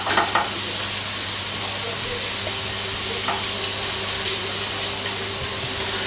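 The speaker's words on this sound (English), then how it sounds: "Once you start getting that pop of the garlic and the ginger" Garlic and ginger frying in oil in a pan for a Quorn white sauce curry: a loud, continuous close-up sizzle and hiss with faint pops, no voices.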